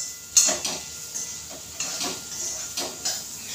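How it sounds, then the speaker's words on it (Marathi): Steam hisses softly from a covered pan of ivy gourd vegetables cooking on the stove, a quiet steady hiss with a few faint ticks and bursts. "आता झाकण घेऊन थोडीशी त्याला वाफ काढते"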